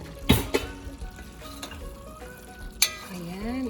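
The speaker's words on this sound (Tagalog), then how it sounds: "Haluin po natin." Chicken adobo is stirred in a pan with its broth reduced: a few sharp metallic clinks and scrapes of the utensil over a soft sizzle, close up, with a brief tonal sound near the end.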